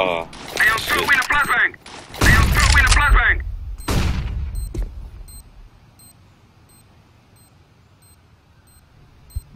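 Gunfire in a first-person shooter game, several rapid bursts of shots over the first four seconds, each ringing out and fading into a quiet tail, with no voice over them.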